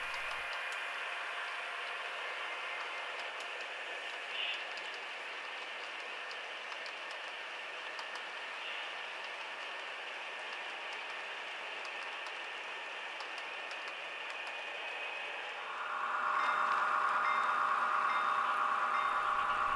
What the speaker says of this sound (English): The train crosses the Rio Grande Bridge in Larkspur.